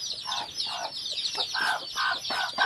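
A hen with her chicks on a chemical-free poultry farm, rapid high cheeping from the chicks running throughout, with repeated soft clucks from the hen in short bursts, close and clear.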